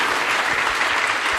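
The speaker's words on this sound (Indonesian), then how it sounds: "Beri tepuk tangan bagi Tuhan Yesus" Dense congregational applause for Jesus during a church service, a brief, steady wash of many hands clapping together.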